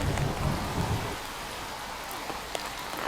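Rain pours steadily outdoors as a dense, even hiss, heavier at first and then settling, with a few faint drip-like ticks and no talking.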